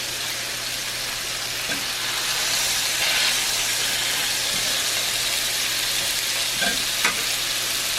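Pre-cooked sausages sizzle steadily in a cast iron pan, a loud, even hiss that runs unbroken with a couple of faint ticks and pops near the end.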